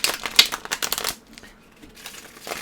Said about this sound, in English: I'm going to shuffle this again.